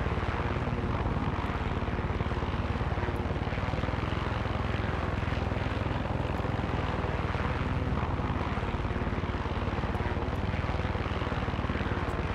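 A helicopter flies in the video game Far Cry 6, a dense, unbroken engine and rotor drone held at a constant level from start to end, with no talk over it.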